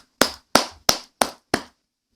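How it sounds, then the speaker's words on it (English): Five sharp, evenly spaced claps ring out one by one, each crisp and close with a short decay. A single person's clapping rather than a crowd's applause, with silence between claps and no talk. "Should we not applaud him?"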